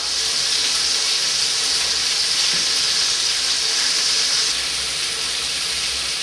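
Lamb pieces seasoned with black pepper, salt and chopped rosemary sizzle loudly in a pan over high heat, a dense continuous crackling hiss heard close up with no voices.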